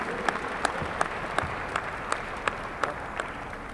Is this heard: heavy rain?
no